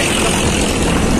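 Loud, steady engine and wind roar of a motorbike riding along a road, a close continuous drone with no talk.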